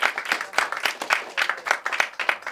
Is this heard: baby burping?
no